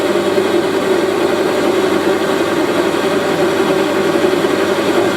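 A Warco WM180 metal lathe runs steadily at 650 RPM, taking a 1.5 mm cut off a workpiece diameter in one pass. The motor and cutting noise form a continuous, loud mechanical hum with no talk.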